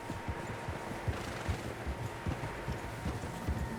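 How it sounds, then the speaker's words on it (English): Several horses clop along at a trot in Red Dead Redemption 2, uneven overlapping hoofbeats on open ground, moderately close and steady, with no talk over them. "Horses, quite a few of them."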